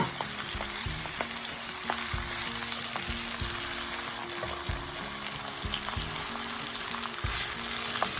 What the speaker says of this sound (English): Then you add a onion, fry it.